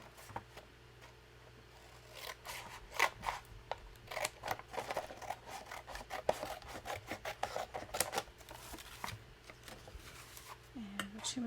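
Scissors trim the cover of a fairy-themed junk journal in a run of close, quiet snips and paper rustles that come steadily for several seconds, with a faint hum behind.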